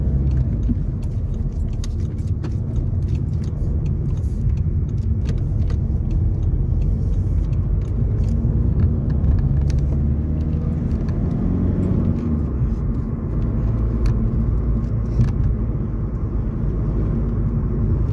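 Heard from inside a car, road traffic makes a continuous low rumble of engines and tires, with light rattles and clicks over it.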